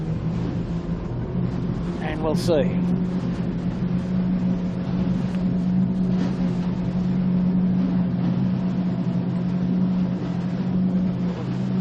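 A camera catamaran's motorboat engine at full throttle drones steadily and loudly during a sailing championship race, a continuous low hum throughout, with brief talk heard early on.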